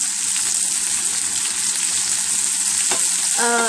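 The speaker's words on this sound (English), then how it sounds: "we're just going to saute this just a little bit more until the spinach is nice and soft" Spinach sautéing in a pan, a steady close hiss and sizzle with occasional stirring scrapes throughout, ending in a brief rattling clink.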